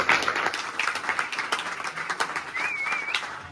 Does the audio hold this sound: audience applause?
yes